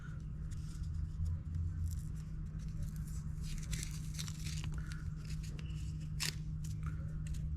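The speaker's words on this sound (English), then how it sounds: "So I need to take this off, which of course finding the end of the black tape is never easy." Black tape being peeled off, giving a steady crackly tearing texture with small pops and scratches over a constant low hum, close and fairly quiet, with no talking.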